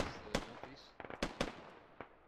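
High-explosive mortar rounds bursting in a military video game: a handful of sharp, cracking blasts at irregular intervals, some in quick clusters, fairly distant and set against quiet gaps.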